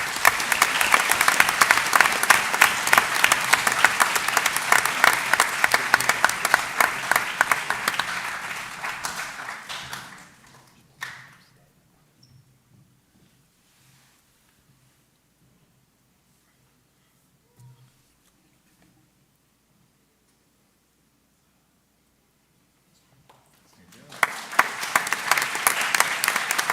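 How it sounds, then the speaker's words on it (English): Loud audience applause for seniors at a board meeting, dense clapping for about ten seconds that fades to near silence before another burst of clapping starts at the end. "Now we can give them a round of applause."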